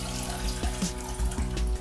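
Water runs steadily from a faucet into a container while Kool-Aid is being mixed, a close, continuous splashing stream with a few small bumps and clinks and no talking.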